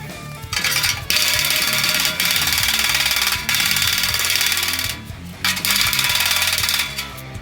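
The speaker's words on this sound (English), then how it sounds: "Now I'm using a hammer that has a kind of a hook in it." A hook-ended door skinning hammer shaping a steel fender flare for an International Scout II, with rapid, loud metallic hammer strikes in dense bursts separated by brief pauses.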